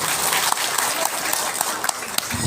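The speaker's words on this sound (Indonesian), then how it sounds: "Tepuk tangan buat beliau." Steady, dense audience applause fills a religious zikir gathering in Lampung Utara, Indonesia, with many hands clapping continuously at moderate volume and no voices on top.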